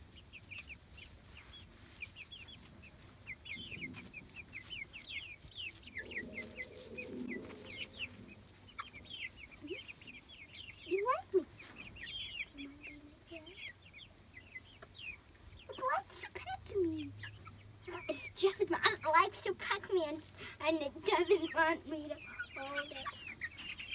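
Chickens cluck in short, scattered bursts around a homestead. The calls start quiet and sparse, then grow busier and louder toward the end, with some low background rumble underneath.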